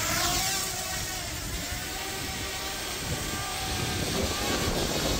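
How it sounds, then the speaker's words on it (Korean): A DJI Mavic Mini drone flying outdoors on a windy day for drone fishing, its steady, loud rotor whine running unbroken under rough wind noise, with no talk. "드론 한번 날려 볼게요"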